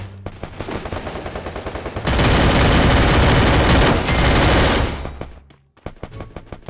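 Dense bursts of automatic gunfire from the battle-royale game Free Fire, with scattered shots building into a loud, sustained volley in the middle before breaking back into sparse, sharp single cracks.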